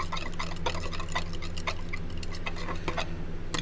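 Two colors of millipede bait mix being stirred together, a steady run of small ticking scrapes and taps over a constant low hum, close and fairly loud throughout.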